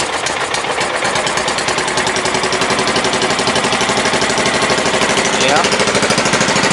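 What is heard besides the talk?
John Deere mud mower engine running with custom clutch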